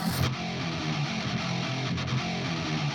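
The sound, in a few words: 8-string electric guitar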